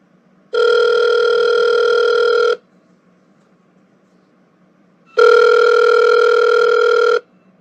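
A telephone rings twice, each loud buzzing tone lasting about two seconds with a pause between them, alone with no voices.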